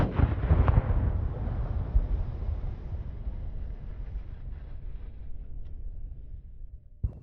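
A firework shell bursts inside an HDPE mortar rack tube with a sharp, loud blast at the start, followed by a long rumbling decay and a faint thump near the end.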